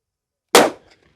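A single sharp gunshot from a .460 handgun cracks out close and loud after a moment of silence, then decays quickly with a short trailing echo.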